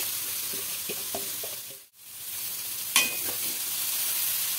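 Cabbage and fried potatoes tossed with spices in a pan for a coconut cabbage ghonto, making a close, steady sizzle with scraping stirs of a spatula, a brief dip in the middle, then louder stirring.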